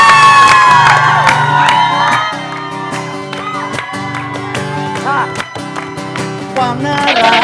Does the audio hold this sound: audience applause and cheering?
yes